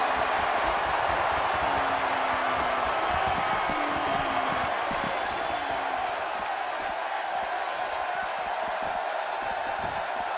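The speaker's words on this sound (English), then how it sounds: "by the sound of this crowd, I think they're getting what they wanted" Crowd at a WWA Smackdown wrestling event, cheering in a dense, steady roar that stays loud and unbroken throughout, with faint whoops rising out of the wash.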